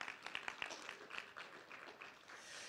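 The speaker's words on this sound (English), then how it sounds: "how about a huge round of applause for our good friends at the Scranton Chamber" A room audience gives a round of applause for the Scranton Chamber at a panel discussion event, a fairly faint, steady patter of many hands clapping that tapers slightly toward the end.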